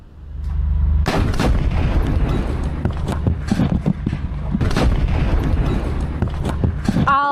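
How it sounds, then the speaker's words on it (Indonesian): An explosive device blowing up an Israeli Merkava tank in Gaza: a sudden heavy blast followed by sustained rumbling and crackling debris, with more sharp bangs and booms scattered through, loud and close. "Al-Qassam menyerang tank Israel menggunakan alat peledak hingga menyebabkan ledakan besar."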